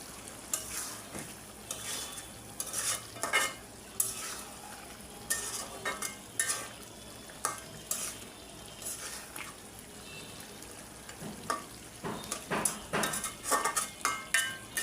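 A spoon stirs beef cooked with tomato in a pot, scraping and clinking against the metal in irregular bursts over a soft, continuous sizzle.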